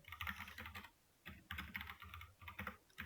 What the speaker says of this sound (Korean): 이거 그냥 타이핑을 하죠.